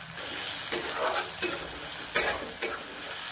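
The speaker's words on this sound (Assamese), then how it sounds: "অকণমান ভাজি ল'ম।" Ingredients fry in a hot pan with a steady sizzle, broken by several clacking stirs of a utensil against the pan, loud and close with no talking.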